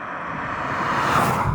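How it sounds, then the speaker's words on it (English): Steady broadband wind rush through a large sunroof of a moving 2021 Kia K5 GT, a continuous airy hiss that swells slightly toward the end, with no talk. "There's definitely wind noise with this larger sunroof."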